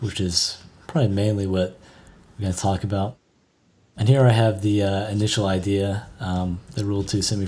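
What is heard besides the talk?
No everyday noises stand out.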